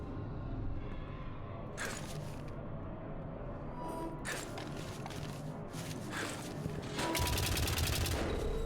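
Turrets fire in White Knuckle, sharp bursts of shots cracking out at irregular intervals over a low mechanical rumble, with the loudest stretch near the end.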